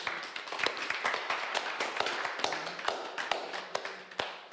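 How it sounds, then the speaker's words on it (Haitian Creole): A crowd applauds for Fanatique with steady, close hand clapping mixed with sharper individual taps, lasting throughout. "Applaudissements pour Fanatique."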